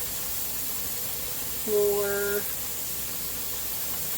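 A pressure canner full of Zuppa Toscana soup vents steam in a steady, unbroken hiss, with a brief voice speaking midway through.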